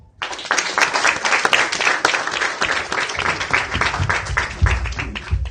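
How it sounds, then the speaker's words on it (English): Applause from an audience for the Honorable Speaker, Senate Speaker Ekwe Ethuro, at the opening of a youth leadership side event in Kenya: dense, sustained clapping from many hands, close and steady throughout, with a few louder sharp claps standing out. "Another round of applause for the Honorable Speaker"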